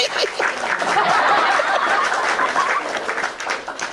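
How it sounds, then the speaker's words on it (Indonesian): Audience in an Indonesian lecture hall breaks into applause mixed with chuckles and laughter, a dense, steady patter of clapping that swells and then fades slightly. "Tepuk tangan dulu saudara"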